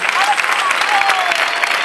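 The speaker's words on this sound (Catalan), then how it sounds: "hem de donar un fort aplaudiment a tots els que estan aquí" People at an outdoor 15M assembly in Terrassa clap loudly for the communication commission, a short, dense burst of many hands with some voices mixed in.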